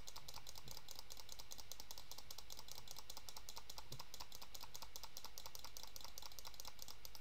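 Rapid, steady mouse and keyboard clicking while playing a Roblox speed simulator game, a dense run of small close clicks continuing throughout with no talk.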